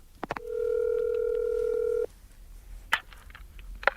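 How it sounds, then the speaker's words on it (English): A telephone number is dialed: a steady tone holds for about a second and a half, then cuts off and is followed by a few short, sharp clicks and beeps, with no talking. "Phone my secretary at her home."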